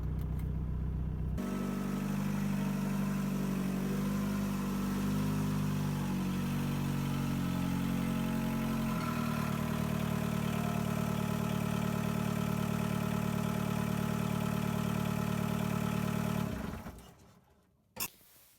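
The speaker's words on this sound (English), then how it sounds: "pull the Jeep in the garage" A Jeep engine idles and rumbles up close as it pulls into a garage, a steady low drone that shifts pitch partway through, then cuts off near the end, followed by a single sharp clunk.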